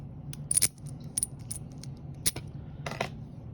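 A key turning in a freshly rekeyed Schlage Primus lock core gives a few sharp metallic clicks and rattles spaced across a quiet moment, close and fairly faint.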